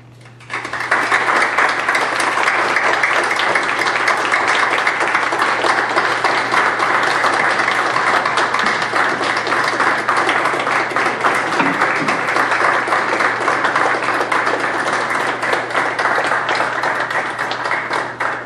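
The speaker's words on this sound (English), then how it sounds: "I hope everyone can join me in giving her an applause." Sustained, loud applause from a council-session audience at a public works award presentation, steady and dense throughout with no break.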